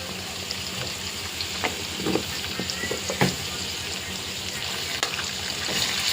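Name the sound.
ginger paste frying in curry in a pan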